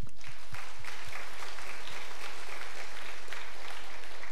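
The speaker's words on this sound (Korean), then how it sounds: "우리 박수 좀 한번 쳐드려요" A church congregation claps together for a few seconds, a dense burst of applause from many hands heard at moderate distance and fading slightly toward the end.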